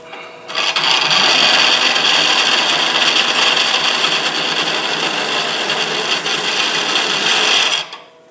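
A woodturning tool being sharpened on a grinder gives a steady, loud, hissing grind that starts abruptly and runs continuously for about seven seconds before stopping, with no talking.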